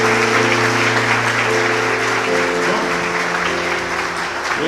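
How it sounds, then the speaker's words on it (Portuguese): Church congregation clapping in praise during a service, a loud sustained wash of many hands with a steady tonal drone beneath, continuous and close throughout. "Celebre a Deus com as palmas."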